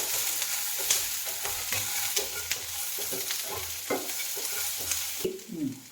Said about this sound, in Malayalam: സവാള കുറച്ച് അരിഞ്ഞത് അതിലിട്ടിട്ടുണ്ട്. അതും കൂടി ഒന്ന് ചെറുതായിട്ട് വഴന്ന് വരണം